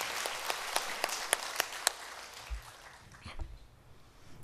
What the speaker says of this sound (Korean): 우리 큰 뜨거운 격려 박수 부탁합니다